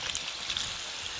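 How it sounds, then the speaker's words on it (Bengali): Water pours into a hot pot of spiced potatoes, Malabar spinach, pumpkin and fried rohu fish head, making a brief, steady, fairly loud hissing splash with no voices. "এবার জল দেব।"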